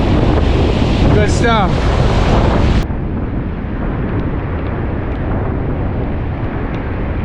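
Strong wind buffets the microphone on a rainy beach during fall surf fishing for striped bass, a loud constant roar mixed with crashing surf, with a brief voice early on.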